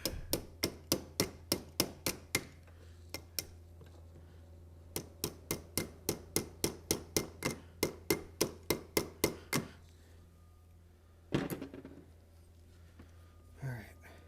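Light metal tapping on a part being seated into a carburetor on a 2000 Arctic Cat 250cc, a fast, even series of close sharp taps, a pause, then a second run and a couple of scattered knocks.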